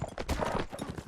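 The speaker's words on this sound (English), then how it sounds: "presses into the crossbows with the help of Shima on the heavy horse" Hooves of heavy horse cavalry clatter in a medieval real-time strategy game battle, a dense run of clip-clop hits against crossbow fighting, steady and fairly close.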